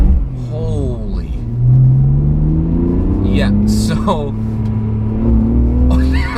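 BMW E46 with a Sprint Booster throttle controller, accelerating on a snowy then dry road as the engine note climbs in a long rising sweep, heard close and fairly loud under a person talking.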